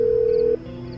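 A phone call's ringing tone sounds as a single steady electronic beep, held for about half a second before cutting off, over a soft background hum in a Hindi crime-drama audiobook.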